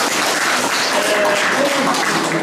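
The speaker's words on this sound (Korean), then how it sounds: "박수 많이 쳐주세요." Audience applause at a photo exhibition, the opening of an academy photo studio's 46th invitational show, a dense steady wash of clapping hands filling the room without a break, with faint voices mixed in.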